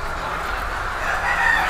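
A turkey calls on a small farm, a faint gobbling cry rising briefly over a steady background of other fowl and livestock ambience.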